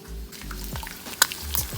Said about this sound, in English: and I'm frying an egg.